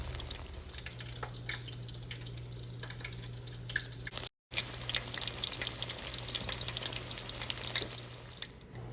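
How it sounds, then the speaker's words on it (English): Chicken tenders fry in hot grease, a continuous low crackle with scattered pops and sizzling spits, close and fairly quiet, with a brief dropout in the middle. "The grease should kind of be at a low rumble."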